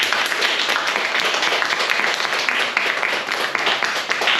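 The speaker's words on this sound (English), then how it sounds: "Let's give our folks a round of applause." An audience applauds at a panel discussion on book banning in New Orleans schools, a steady dense roll of clapping that carries on throughout.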